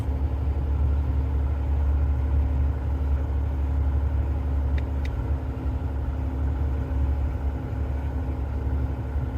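A truck coasting downhill on a road in Turkey on engine braking alone, no service brakes used: a steady, loud low-pitched engine drone and rumble that continues without a break, with a faint brief squeak partway through.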